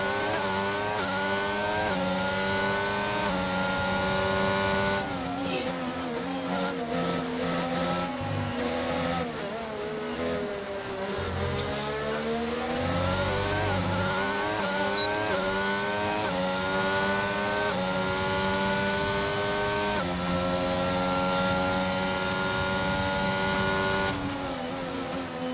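Race cars lapping a circuit in a Tier 3 league round in France, engine notes rising and falling in steady loud passes with shifting pitch as cars accelerate and brake, continuous throughout.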